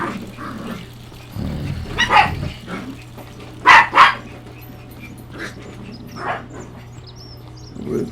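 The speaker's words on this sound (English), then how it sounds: "And my dog's going absolutely berserk." A pet dog named Rufus barks and growls in a few short, loud bursts indoors, with quieter grumbling between them over a low steady hum.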